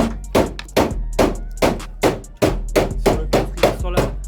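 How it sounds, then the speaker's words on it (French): Loud, ringing hammer strikes on a metal car chassis rail of a BMW E36, roughly a dozen in a steady, insistent rhythm, close up and resonant, with no voices over them. "il aime bien utiliser le marteau comme ça. Il tape, il s'arrête pas"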